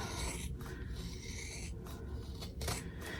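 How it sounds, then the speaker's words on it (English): Heavy-duty scissors crunch through thick layers of fabric in several slow, rasping cuts, close up, with a steady low background rumble and no talking. "I'm using pretty heavy-duty scissors because this is a lot of layers."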